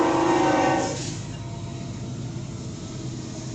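A train rumbles past, loud and close at first, then fading into a steady low roar with no speech over it.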